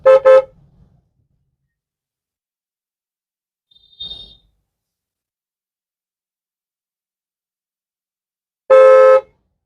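Two separate car horn honks in traffic, one short double toot at the start and a longer blast near the end, with near silence between them.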